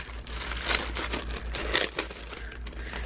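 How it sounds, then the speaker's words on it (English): Plastic envelopes are handled up close, producing loud irregular crinkling and rustling bursts in quick succession, with no talking. "And they are plastic envelopes"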